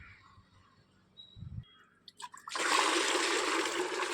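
Water from a jug gushes steadily onto potted plants from about halfway on, a loud, continuous pour and splash following a few small clinks and knocks.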